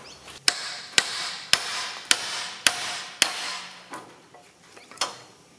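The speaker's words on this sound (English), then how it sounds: "might grab a hammer and break a bit more of that plastic away" Sharp, regular hammer blows strike and crack brittle plastic, about one hit every half second, loud and close with brief rattling after each impact.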